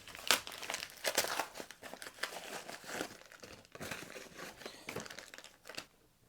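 Watch bracelet packaging from Uncle Straps being unwrapped, with dense crinkling and crumpling of plastic or paper in bursts over several seconds, close and fairly quiet, with no talk.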